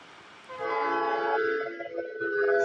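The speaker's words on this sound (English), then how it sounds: "Was that a train?" A train horn sounds from a distance, with a steady harmonic blast that begins after half a second of quiet and holds, slightly wavering, to the end.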